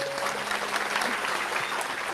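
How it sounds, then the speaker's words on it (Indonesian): Audience applause for Gus Mus at a religious reflection gathering with Cak Nun, a dense, steady wash of clapping from a large crowd that holds for the whole short stretch. "Semuanya teman sekalian tepuk tangan untuk Gus Mus."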